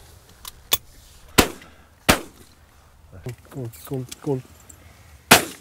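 Sharp shotgun blasts ring out during pigeon shooting in open country, several sudden reports spaced unevenly, with a voice talking between them.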